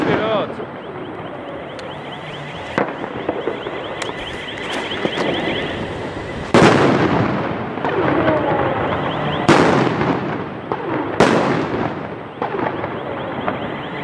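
Polish firecrackers (Polenböller) bursting one after another, several sharp loud bangs with crackling tails, some close and some farther off, over a steady background of distant pops and faint voices.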